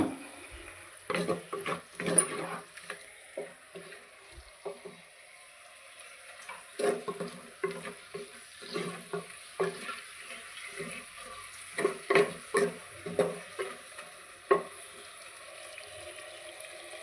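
Millet and spinach khichdi with spiced chili oil and potato is stirred in a pot. A faint oily sizzle runs under repeated scraping and stirring knocks that come in irregular bursts, with no voices.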